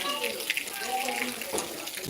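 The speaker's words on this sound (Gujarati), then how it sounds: "ખાંભાની અંદર અત્યારે ધીમી ધારે ધીમો ધીમો વરસાદ ચાલુ છે" Light, steady rain falls in Khambha as a continuous soft hiss and patter, fairly close and even throughout, with a faint voice now and then in the background.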